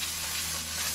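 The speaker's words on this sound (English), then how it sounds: "brake cleaner," Brake cleaner hisses in a steady, close, continuous spray onto the front brakes of a 2011–2016 Subaru Impreza during a brake pad replacement.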